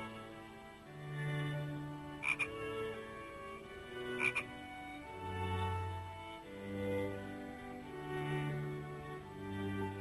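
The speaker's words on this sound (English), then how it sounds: "A green frog." A green frog croaks in repeated low, throaty calls that come in a slow, uneven rhythm, close and clear against quiet surroundings, with a couple of brief sharp clicks in between.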